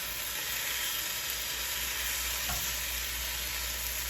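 Tomatoes and garlic fry in a pan with a steady, loud sizzling hiss that stays constant throughout, close up, with a brief stir partway through and no talk.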